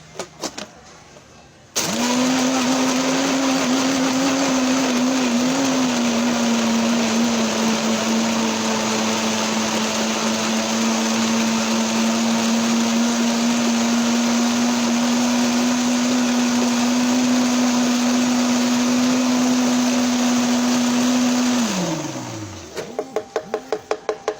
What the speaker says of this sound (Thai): ปรับเครื่องปั่นไปที่เบอร์แรงสุดนะคะ จะได้ปั่นไว แล้วก็ละเอียดไว